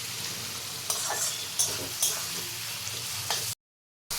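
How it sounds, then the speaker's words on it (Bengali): Spice masala is fried down in a pan for a Bengali doi mutton curry, a steady close sizzle broken by a few sharp scraping stirs before cutting to silence near the end. "এইবার মশলাটাকে একটু কষিয়ে নিই"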